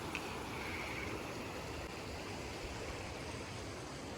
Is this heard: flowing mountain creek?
yes